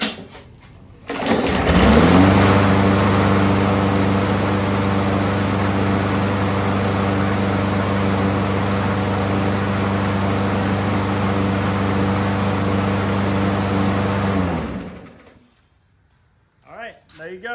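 A Murray 450e lawnmower engine with a freshly cleaned carburetor starts up and runs smoothly at a steady, loud drone for about thirteen seconds, then cuts off into near silence.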